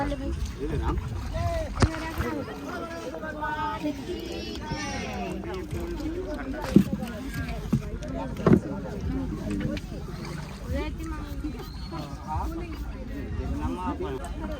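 A boat carrying people across a pond during a Ganesh immersion outing, with water sloshing and churning steadily against the hull beneath continuous nearby conversation and voices.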